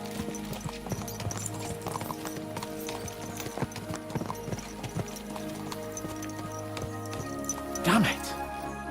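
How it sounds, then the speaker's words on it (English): Horses gallop in the video game Kingdom Come: Deliverance 2, with rapid, steady clip-clop hoofbeats and a brief neigh near the end, while voices talk over them. "Let's really spur these horses on, eh?"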